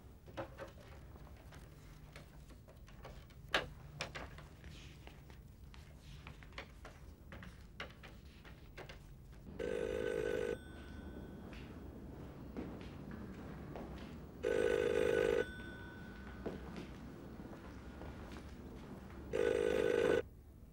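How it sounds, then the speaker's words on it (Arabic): A telephone line goes dead after a hang-up, leaving a faint background hum broken by three evenly spaced tonal beeps. "السكة اتقفلت."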